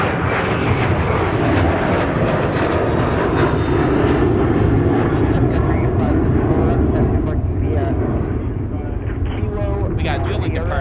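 Two airliners departing Minneapolis–St. Paul airport at once, a United jet bound for Chicago O'Hare and an Alaska jet to Portland, give a loud, steady, broadband engine roar that fills the whole stretch, with people talking over it.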